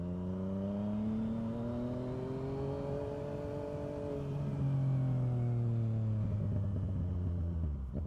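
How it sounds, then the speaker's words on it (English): An untuned new motorcycle engine revs unevenly and sags as if about to die, a loud continuous rumble with wavering pitch that dips and recovers over eight seconds, close by with no talking. "Can't even rev it and it dies."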